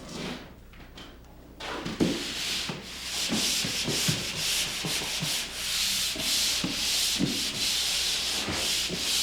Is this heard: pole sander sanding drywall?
yes